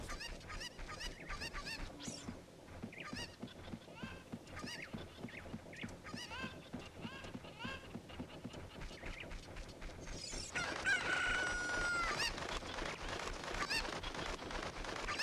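Chickens (cuccos) in the video game Ocarina of Time cluck and squawk in repeated bursts throughout, with a louder, denser flurry of calls near the end; no talking.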